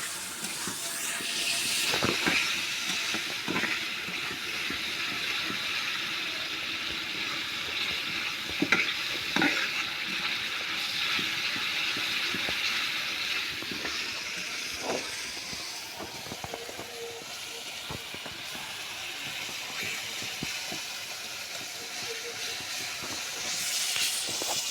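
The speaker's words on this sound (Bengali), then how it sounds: "সুন্দর করে মশলাটা কষে নিব।" Spiced masala being stir-fried in a pan for a dried lotte fish curry, a steady sizzle and hiss with scraping spatula strokes throughout, close and fairly loud, no talking.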